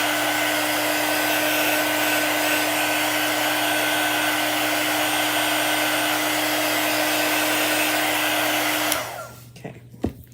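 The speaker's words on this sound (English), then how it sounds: "we can take our quick dry tool, give it a little burst of air so it can start drying" A handheld quick-dry tool blows a steady, loud rush of air over chalk paste on a stencil for about nine seconds, then cuts off, leaving a few faint handling knocks.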